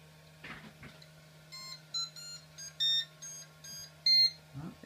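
A 3D printer, a Flashforge Dreamer, starts up with a short series of electronic beeps in rapid succession, a few distinct tones stepping along over a steady low hum, with a couple of soft clicks.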